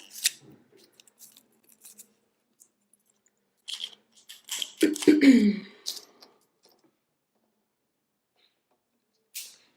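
Colored beading wire is snipped with small cutters: a few sharp, close metallic clicks and snips spaced apart in a quiet room, with a soft breath between cuts.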